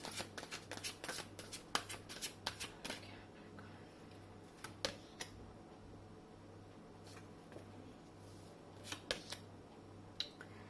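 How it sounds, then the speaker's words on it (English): Tarot cards riffled and shuffled in a quick run of crisp papery flicks, then slowed into a few soft single card pulls and slides at close range with long quiet gaps, no talking. "let me just pull one last card"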